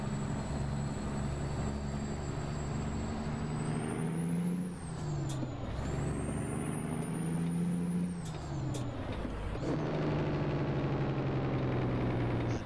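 Kenworth W900B truck in American Truck Simulator, a steady deep diesel drone with long tonal engine whine that dips and rises as it shifts, plus short sharp hiss bursts like air brake releases, loud and close.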